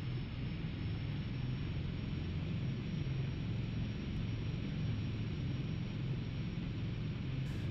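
Quest Kodiak G1000 turboprop in X-Plane 11 taxiing toward the runway, a steady, loud engine drone with broadband hiss that holds constant throughout, no voices.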